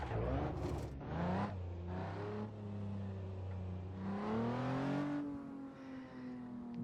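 A 2.0 liter car engine in Assetto Corsa VR revving up and down through the gears, with a clear rising and falling whine, strong and close, and no talking.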